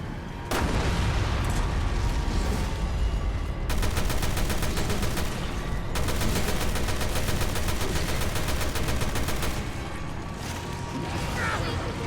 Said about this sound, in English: Let me blow it up with a pistol instead of wasting ammo.